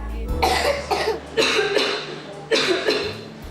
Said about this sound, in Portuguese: é a tosse que promove a velha e conhecida Sinfonia do Frio.